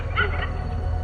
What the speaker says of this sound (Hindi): लेकिन कुत्ता भौंक रहा है, जरूर भौंके।